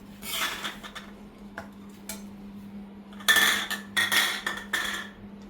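A metal spoon scrapes and clinks against a pan while spice mixture is tossed into roasted poha chiwda, with sparse taps at first and then a quicker run of close clattering strokes over a low steady hum.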